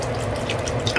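Broth pours into a pot in a steady, splashing liquid stream, close and continuous for about a second.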